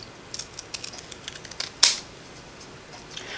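Scissors trim a stamped handmade thank-you card, with faint light ticks and rustles leading up to one crisp, close snip, then quiet.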